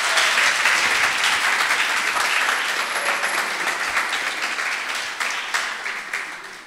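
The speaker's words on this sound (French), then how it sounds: "invitez-nous à applaudir encore une fois." Sustained audience applause at a French-language talk event, a broad even roar of many hands that starts full and slowly tapers off, with no voices over it.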